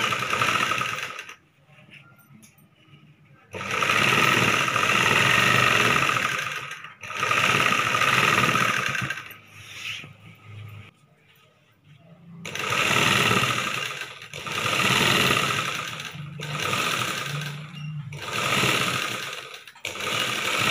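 A sewing machine stitches a chudidar top in several loud, close bursts of rapid needle chatter, each run stopping and starting again with short quiet pauses between.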